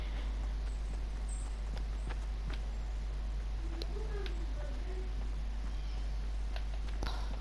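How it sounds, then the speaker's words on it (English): Footsteps in the Fortnite battle royale game patter faintly and irregularly over a steady low background hum, with no talking. "I hate the sound of footsteps in this game."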